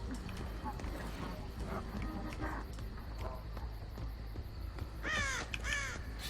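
Crows caw in a Dead by Daylight match, a loud cluster of harsh calls near the end over steady game ambience and footstep-like thuds, with a player talking through most of it.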